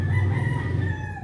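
A rooster near a basketball court gives a single sustained crow, loud and close, that fades out toward the end with no talking over it.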